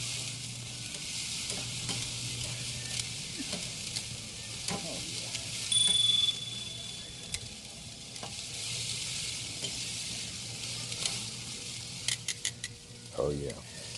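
Ribeye and filet mignon steak shish kabobs sizzle over a grill flare-up fed with oil, giving a steady close crackling hiss throughout with brief clicks and a couple of louder pops near the end.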